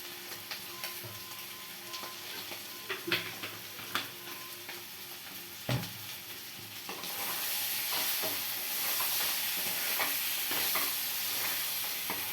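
Meat sizzles in a pan with scattered clinks and scrapes of stirring, the hiss swelling louder toward the end; no voices.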